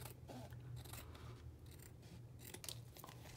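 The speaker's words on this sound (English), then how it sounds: "I'm gonna have to cut some of this part off." Paper being cut with scissors at a craft table for a ring bound journal, a steady run of close, crisp snipping and rasping blade strokes with no talking.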